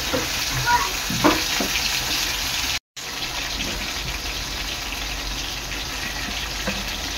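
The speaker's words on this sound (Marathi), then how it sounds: "अशा प्रकारे सर्व बोंबील मी बेसन मध्ये डीप करून तेलात सोडणार आहे" Besan-coated Bombay duck pieces deep frying in hot oil, a steady loud bubbling sizzle with brief crackles near the start and a momentary dropout partway through.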